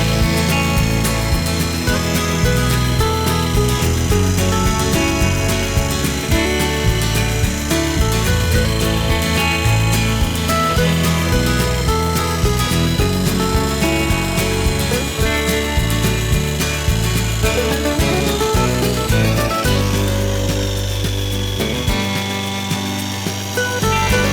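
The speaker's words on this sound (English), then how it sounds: "So a little light sanding, and especially in between these ears." A 120-grit Sandiflex sanding tool lightly works over a wood carving, including between the carved ears, producing a continuous whining, buzzing drone with rough grinding texture that drops away just before the end.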